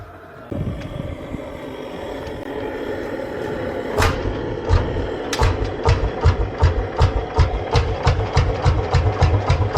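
A large Lanz Bulldog single-cylinder two-stroke engine is cranked and catches, first a loose whirring, then sharp individual firing pops that settle into a steady, slow, loud rhythmic chug close by.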